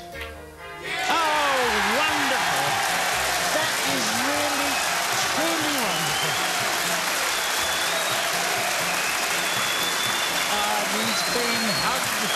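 A snooker audience breaks into sustained applause during a break, a steady dense clapping that swells quickly and holds loud, with a voice speaking over it.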